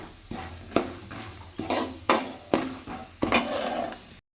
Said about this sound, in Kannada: ಸ್ವಲ್ಪ ಜೀರಿಗೆ ಹಾಕ್ಕೊಳ್ಳೋಣ ಇದನ್ನು ಸ್ವಲ್ಪ ರೋಸ್ಟ್ ಮಾಡ್ಕೊಳ್ಳೋಣ ಶೇಂಗಾ ಮತ್ತು ಕಡಲೆಬೇಳೆ